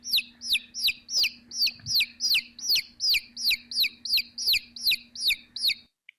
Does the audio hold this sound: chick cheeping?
yes